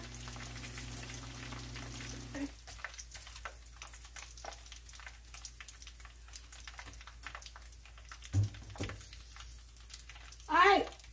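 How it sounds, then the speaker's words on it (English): A quiet, steady crackle of chicken frying in a pan for sweet and sour sesame chicken runs under soft talk and kitchen clatter, with a brief sharper clink near the end. "We're done frying"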